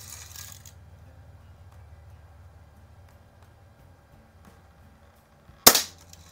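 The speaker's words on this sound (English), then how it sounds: "So that's five shots with the old timer Red Ryder." A 1940s Daisy Red Ryder BB gun fires a single sharp, loud crack near the end, with a brief decaying tail over quiet low background noise.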